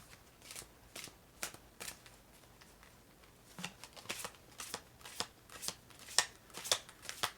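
Sacred geometry oracle cards are shuffled by hand in a quick run of papery riffles and flicks that grow busier and louder toward the end, with no talk.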